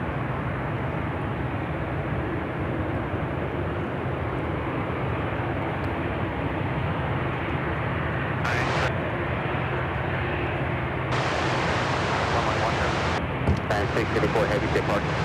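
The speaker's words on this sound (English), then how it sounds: "Our next arrival is the Atlas Air 747-400 freighter coming in from Anchorage" Atlas Air Boeing 747-400 freighter arriving at Chicago O'Hare, a steady broad jet roar rumbling throughout with a few brief hiss bursts and louder swells near the end, tower radio talk faintly mixed in.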